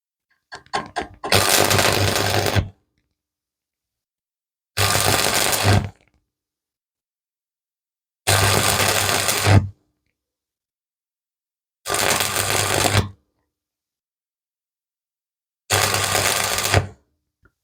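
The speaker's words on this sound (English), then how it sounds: "So let me get welding." Stick welding a homemade wrench extender clamped in a vise, with five separate bursts of steady crackling arc buzz, each lasting one to two seconds and separated by silence, loud and close with no talking.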